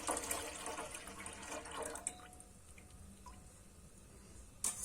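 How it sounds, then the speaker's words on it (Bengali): Date palm juice poured and strained through a sieve into a pot, giving a close, steady trickle and splash of liquid that fades toward the end, with a brief louder splash at the finish. "আর এই পাত্রর মধ্যে কিন্তু রসটা ছেঁকে দিয়ে দেবো"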